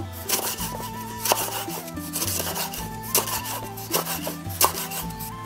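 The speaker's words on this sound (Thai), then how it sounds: "ป้าแต๋วชอบบางๆเนาะ เลยหั่นบางๆ" A knife slices lemongrass thinly and rapidly against a cutting board, making quick, steady close-up chopping strokes with no talking.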